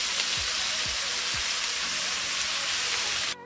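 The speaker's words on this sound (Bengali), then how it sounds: "এবারে সবটাকে একসাথে নিয়ে ভালো করে ভাজতে হবে।" Fried rice with chicken and peas sizzles steadily in a pan, a dense continuous hiss with a few soft low thumps of stirring early on, cutting off just before the end.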